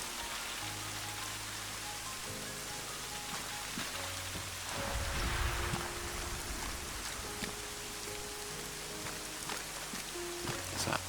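Thunder in Arma 3 on Malden during steady rainfall: a low, rolling rumble swells midway through a constant close hiss of rain on surfaces, with no voices.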